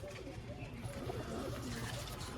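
Pigeons, including green-eyed hens, cooing softly at some distance, low rounded calls that rise and fall under a busy, noisy background.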